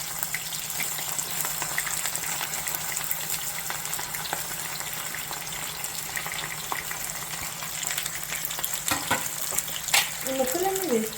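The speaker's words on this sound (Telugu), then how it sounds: "ముందుగా మనం బాండ్లను వేడి చేసుకుని నూనె వేడెక్కాక తరిగి పెట్టుకున్న దొండకాయ ముక్కలను వేసుకోవాలి." Chopped ivy gourd (dondakaya) pieces fry in hot oil in a kadai, making a steady, bright hiss that holds throughout, with a voice briefly heard near the end.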